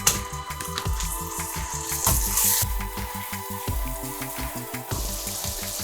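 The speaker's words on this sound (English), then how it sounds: "I'm gonna fry 2 organic burger steaks and I'm gonna fry them in butter." Two organic burger steaks frying in butter in a pan, a steady crackle and sizzle with rhythmic knocking and scraping sounds repeating through it, close up and fairly loud.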